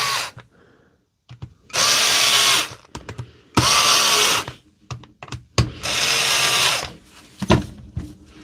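Cordless drill driving screws loosely into a Dewalt battery pack during a repair, several loud whirring bursts of one to two seconds each separated by clicks, handling knocks and short pauses, close to the mic.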